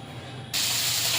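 Fish coated in salt and turmeric frying in hot oil in a wok, a loud steady hiss that bursts in abruptly about halfway and holds strongly to the end.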